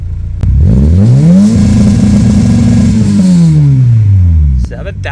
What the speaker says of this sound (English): we should be able to hear the rev limiter now that there is